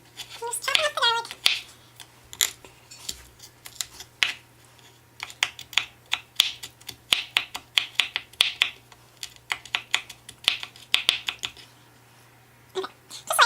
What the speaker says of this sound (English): Just chopping up the garlic.